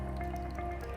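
Part A of GlazeGuard tile sealer, a two-part sealer for ceramic and porcelain tile, poured from its container into a measuring vessel: a steady close trickle and drip of liquid running alone for about a second.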